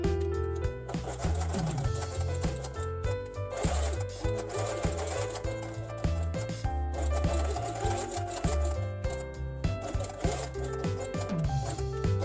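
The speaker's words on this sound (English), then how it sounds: "place square elements on top in this way and sew along the edge" A sewing machine stitches along the edge of felt pieces for a Christmas quiet book, a close, fast mechanical chatter that runs in bursts with short pauses between them.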